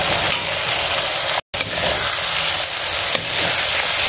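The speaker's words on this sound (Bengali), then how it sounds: "চিনি, নুন, হলুদ আর একটু কাশ্মীরি লঙ্কার গুঁড়ো দিয়ে নাড়লাম" Spices with sugar, salt, turmeric and Kashmiri chili powder fry in hot oil, giving a loud, continuous close sizzle with occasional stirring scrapes and a brief cut midway.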